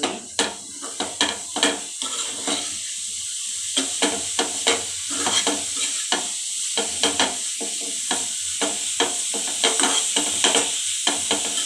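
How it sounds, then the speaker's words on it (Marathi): Grated carrots for carrot halwa sauté in a pan, with a steady sizzle and hiss broken by repeated clacks and scrapes of a spoon stirring, close and alone. "तुम्ही एक दोन मिनटं आपण चांगलं परतून घेऊया"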